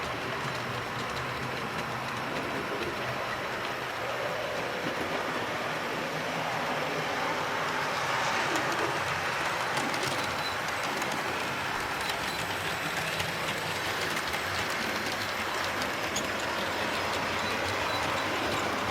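An S15 locomotive runs on a model railway layout with a steady, faint rolling hiss and light rail clatter that swells gently and fades as it passes, with no talk.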